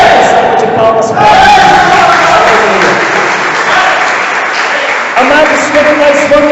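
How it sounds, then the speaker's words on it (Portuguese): Applause from a church audience at a Catholic service, a loud, sustained wash of clapping and crowd noise with voices mixed in. "Salve de palmas"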